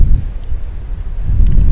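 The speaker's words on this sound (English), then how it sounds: "also quite windy up here" Wind gusting across Cotter Gap, a mountain pass, under cloudy skies: a steady low roar that swells louder toward the end, with no voices.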